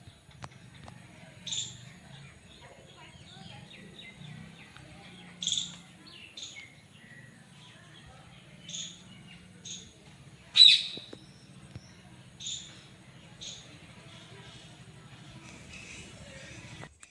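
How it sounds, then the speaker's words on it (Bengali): Parrots and pigeons call from trees at a temple in the early morning, with about nine short, sharp chirps spaced several seconds apart over a low, quiet hum. "এত টিয়া পাখি আছে, কি বলবো। টিয়া পাখি শুধু না, পায়রাও সাথে আছে।"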